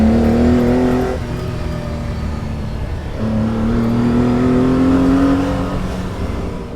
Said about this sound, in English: Raw, nasty, beastly stuff that makes this one of the best sounding cars I have ever experienced.